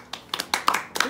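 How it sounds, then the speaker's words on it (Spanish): A few people clap briefly at a casual birthday gathering, scattered sharp hand claps in a short uneven run, close and fairly loud. "Aplausos."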